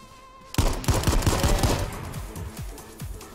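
Rapid AR-15 rifle fire in a video game: a loud burst of closely spaced shots that starts suddenly after a quiet moment, then rings on as the volley trails off, with no talk.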